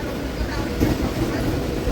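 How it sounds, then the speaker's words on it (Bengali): A local train rolls into Bongaon station under heavy clouds, giving a steady, loud, low rumble that holds for the whole stretch, with faint voices mixed in. "তিনটে তিন বাজে এই বনগায় ঢুকতেছে ট্রেন"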